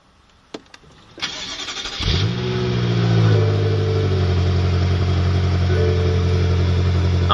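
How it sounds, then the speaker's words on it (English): A 2013 BMW M5 F10 with its twin-turbo V8 starts up: a couple of faint clicks, then a whirring crank that catches and flares into a loud rev. The engine settles into a deep, steady idle with no voices. "Amazing potent sound from that new twin-turbo V8."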